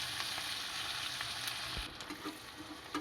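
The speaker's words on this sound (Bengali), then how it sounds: "পেঁয়াজটা একটু ভেজে নেব" Onions frying in a pan, a soft continuous sizzle with a faint hiss, close but quiet, easing slightly toward the end with a couple of light stirring knocks.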